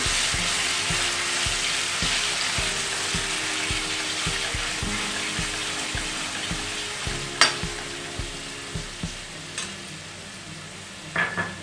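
Spinach paste is stirred in a frying pan after tempering for green roti, giving a steady sizzle with regular soft scraping strokes of a spoon and a few sharper clinks near the end.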